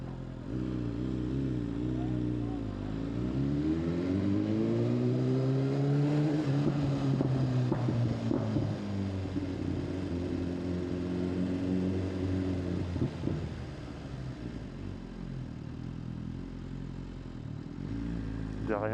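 A BMW S1000RR motorcycle fitted with an Akrapovic exhaust revs up, engine pitch sweeping upward and holding a loud raw roar before settling back to a rumbling idle, close to the microphone with wind buffeting.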